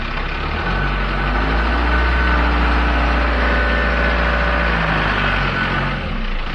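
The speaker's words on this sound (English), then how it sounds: "Give it a rev." A ute engine runs steadily and loudly throughout, a continuous close rumble with a slight rise in the middle and no talking.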